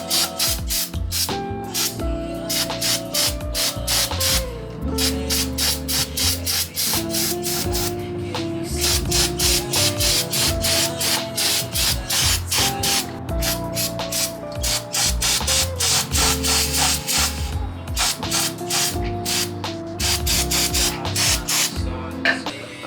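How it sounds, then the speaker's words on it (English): Brake cleaner sprayed in repeated hissing bursts onto a car brake rotor during a brake job on a G37, loud and close, with short gaps and clinks of handling between sprays. "I didn't know brake cleaner was that good"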